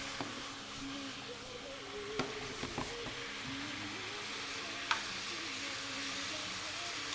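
Lemongrass and chili frying in hot oil, a steady, even sizzle running the whole time, with a few soft clinks and taps from stirring along the way.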